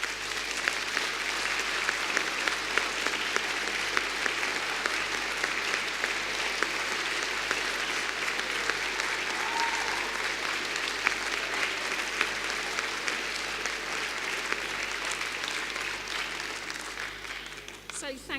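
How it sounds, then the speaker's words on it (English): Large-hall audience applause at a university graduation ceremony in Birmingham, a sustained, even wash of many hands clapping that continues for the whole stretch at moderate distance, with a faint low rhythmic hum beneath. "let's give your supporters a massive round of applause"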